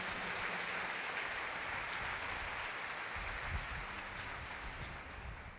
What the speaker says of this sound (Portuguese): Se você crê, dê uma salva de palmas a Ele bem forte